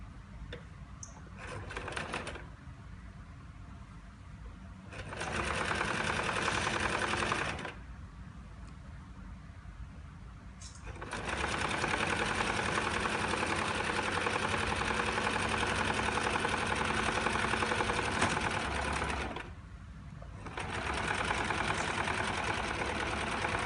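Sewing machine stitching fabric pieces together, running in three bursts of steady rapid needle rattle separated by quieter pauses, close and fairly loud with no talk over it.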